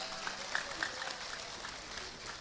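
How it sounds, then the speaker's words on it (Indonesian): Audience applause at a humorous religious talk in Madiun, a broad wash of clapping from a large crowd with a few louder bursts early on, holding steady at moderate volume. "tepuk sing banter"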